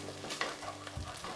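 A potato and tomato curry with garam masala and coriander powder cooks in a pan, a close steady sizzle broken by stirring scrapes, with no talking.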